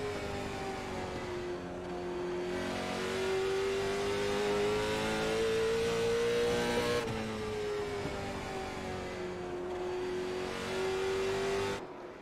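Late model stock cars race around Oxford Plains Speedway, their engines droning loud and steady with a rising and falling pitch as they lap and pass, ending in a sudden cutoff.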